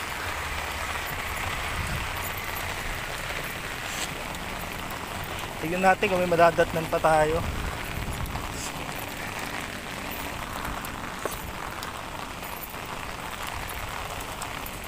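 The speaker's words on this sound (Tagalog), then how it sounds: "Kasi lakas ng ulan" Steady, dense heavy rain patters across a surface throughout, with someone speaking briefly in the middle over the downpour, in Cubao, Metro Manila.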